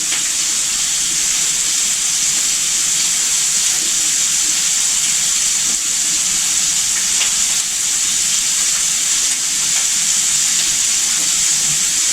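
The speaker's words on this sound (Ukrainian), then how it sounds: "Бекон наш гарно підсмажився, витопився, ось пустив такий жирок." Bacon sizzles and fries in a pan, rendering its fat, a loud continuous hiss and crackle of spitting grease held steady throughout with no voices.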